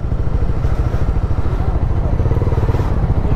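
Several Honda motorcycles idle and rumble together at a big Honda bikers' ride meet-up in Kurnool, a steady low engine drone with clattering, filling the scene loudly throughout.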